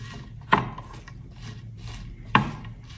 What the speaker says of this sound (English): you're going to actually stir this kind of lightly just to make sure everything's coated